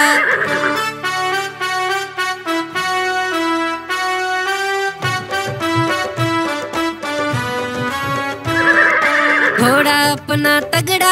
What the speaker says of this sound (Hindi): घोड़ा दौड़ा दुम उठा के दौड़ा, दौड़ा दौड़ा घोड़ा दौड़ा दुम।